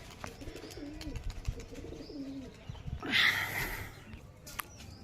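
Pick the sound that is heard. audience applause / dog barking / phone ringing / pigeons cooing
pigeons cooing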